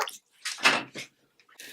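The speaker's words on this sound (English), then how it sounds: "I'm going to pour 1 cup of hot boiling water over the rice." Hot boiling water, one cup, is poured over rice in a kitchen. Two or three short splashing pours come close and fairly loud, with brief pauses between them and a final burst at the end.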